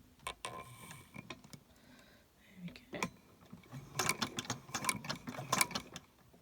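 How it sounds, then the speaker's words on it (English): A sewing machine advanced by hand-turning its wheel for two or three forward stitches, giving soft mechanical clicks and ratcheting ticks in a quiet room, with a brief cluster of sharper clicks near the end. "I'm going to come forwards on my machine, just turning the hand wheel by 2 or 3 stitches"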